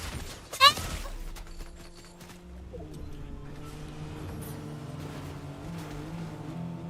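In a Fortnite match, a car engine hums and rises steadily after a sharp bang near the start, mid-level and continuous, with some speech-like sound mixed in.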